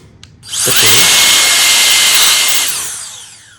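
A small electric BL16 mini jet fan turbo blower spins up with a sharp whine, roars at full speed for about two seconds, then begins winding down.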